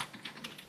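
Keys clack on a computer keyboard as parentheses are typed, a quick run of several soft, close taps in uneven rhythm, heard alone without speech.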